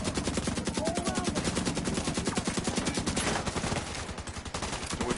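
Rapid, sustained automatic gunfire in a video game, dense rhythmic bursts that continue almost without pause for several seconds, loud and close, easing slightly near the end.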